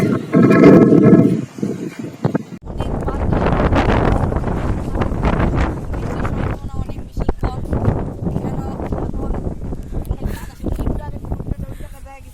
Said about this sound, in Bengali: দেখো গাইস, কত বেশি বাতাস।